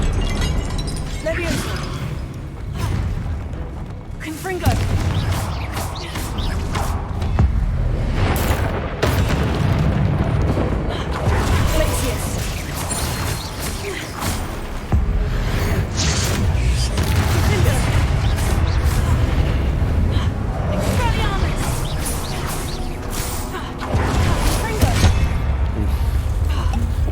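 Confringo explosion spell in Hogwarts Legacy, with repeated booming blasts and crackling bursts over a steady, loud game soundscape and a talking player.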